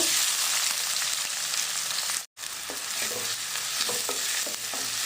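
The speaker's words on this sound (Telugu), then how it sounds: "ఆయిల్ హీట్ అయిందండి ఇప్పుడు ఉల్లిపాయ పచ్చిమిర్చి వేసి ఫ్రై చేసుకుందాం" Onion and green chillies frying in hot oil for a tender tamarind leaf fry, a continuous loud sizzle with scraping stirs, broken by one brief silent cut.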